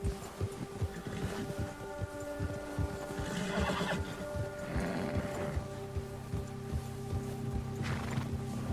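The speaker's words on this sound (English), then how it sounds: "Oh, man, my horse is freaking out." A horse in the video game Red Dead Redemption 2 whinnies and neighs repeatedly, loud and agitated, with hooves stamping and shuffling throughout.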